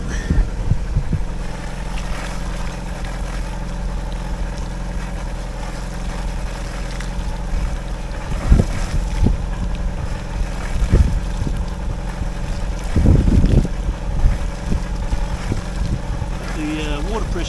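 A yacht's marine engine, being test-run after a fix while pouring smoke from the exhaust, drones with a steady low throb, joined by a few brief louder knocks and clanks nearby.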